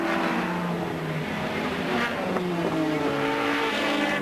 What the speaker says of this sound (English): Brocky sideways comes out of Motorcraft.